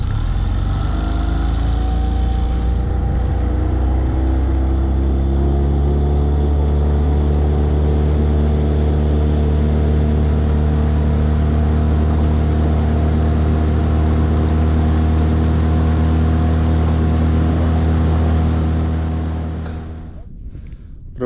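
A motorboat's outboard engine drones loud and steady, travelling along a forest river through a small rapid, its tone holding constant before fading near the end.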